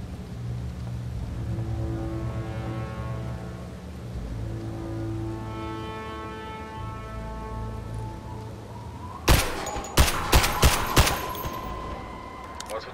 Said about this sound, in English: What's with the shots?